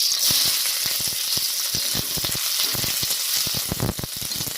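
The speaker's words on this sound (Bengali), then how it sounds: "এবারে দিয়ে দেব কেটে রাখা পেঁয়াজ" Chopped onion goes into hot oil already tempered with cloves, cinnamon and cardamom and fries with a loud, close, continuous sizzle. Frequent scrapes and taps of a spatula stirring against the pan run through it.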